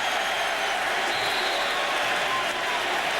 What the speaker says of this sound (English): The fans are trying to cheer him on a little bit.